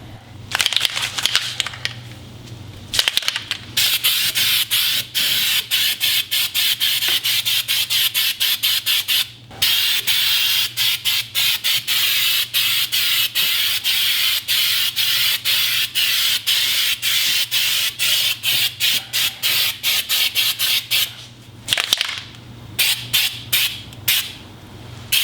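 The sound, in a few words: spraying undercoat from a can onto car underside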